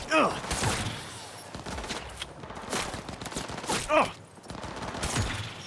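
Rifle gunfire in the video game Cyberpunk 2077, with bursts of rapid shots and impacts mixed with game effects and someone talking over the action.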